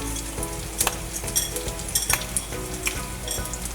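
Whole spices (bay leaf, black cardamom and cinnamon sticks) hitting hot oil, giving a steady sizzle and frying crackle with sharp pops and a few stirring clinks.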